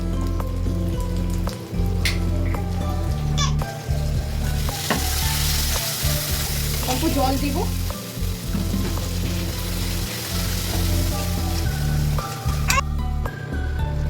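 Ground chili, cumin and coriander frying in oil for a rohu fish curry give a loud, steady sizzle with stirring scrapes throughout, and a voice speaks briefly over it.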